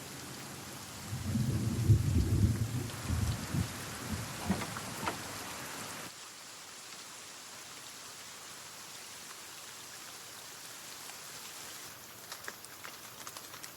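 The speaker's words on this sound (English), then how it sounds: "heavy tropical rains and storms occur practically every day on the river" Heavy tropical rain pours steadily over a river in the Borneo jungle, with a loud rumble of thunder early on before the downpour continues as a dense, even hiss.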